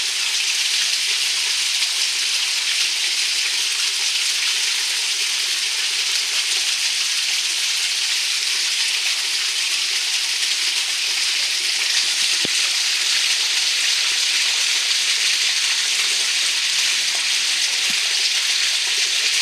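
Water rises and fills against a StormMeister flood barrier door during a demonstration, heard as a continuous loud hiss and rush of flowing water with no pauses, close by and without talk.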